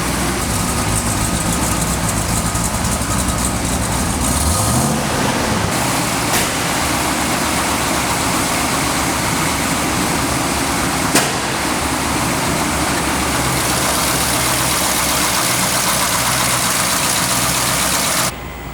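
A 1971 Hemi 'Cuda with a stock Hemi engine and solid lifter cam idles loud and close, a steady rumbling lope that runs unbroken for the whole stretch before cutting off abruptly at the end.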